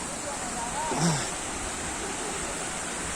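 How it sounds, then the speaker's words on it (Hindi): A stream flowing into Asurkhol Second Waterfall in Keonjhar makes a quiet, steady rushing hiss throughout, with a faint brief tonal sound near the start. "ये जो झरना है ना, ये झरना वाटरफॉल में जाके गिर रही है।"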